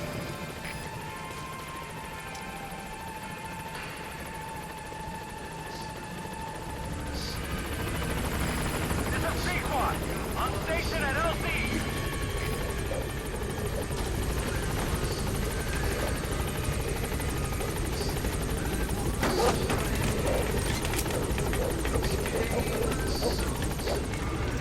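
Helicopter in the video game Metal Gear Solid V, its rotor drone steady and fairly loud throughout, swelling after the first few seconds, with game effects and talk mixed over it.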